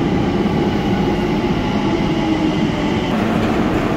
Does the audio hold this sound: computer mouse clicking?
no